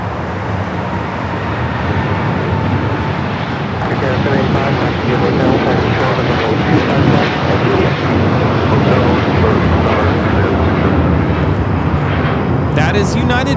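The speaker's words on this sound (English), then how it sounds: "That is United Airlines Flight 32 taking off to Tokyo, Narita on the 787-9 Dreamliner" A United Airlines Boeing 787-9 Dreamliner takes off at LAX, a broad roaring rumble that swells and holds loud throughout.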